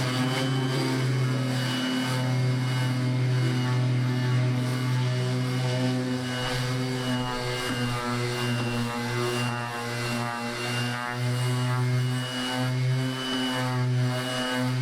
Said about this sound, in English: Using a palm sander, set my palm sander to the lowest speed.